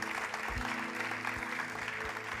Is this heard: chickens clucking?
no